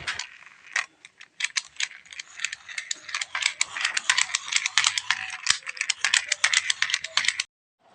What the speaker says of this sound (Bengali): হ্যান্ড ফ্যান তো আছে এটা দিয়েই আপাতত একটু হাওয়া খেয়ে নিই